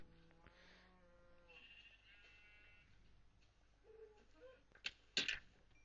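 A Minecraft sheep bleats faintly in a quiet game scene, with a few soft, thin bleats scattered among light background game sounds, followed near the end by a couple of sharp, louder hits.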